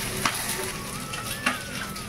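Potatoes sprinkled with a little salt sizzle steadily in a kadai, a continuous close frying hiss with two brief utensil clinks.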